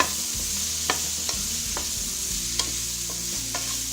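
Mushrooms sautéing in a pot for biryani with a steady hiss, punctuated by several sharp clinks and scrapes of a utensil stirring.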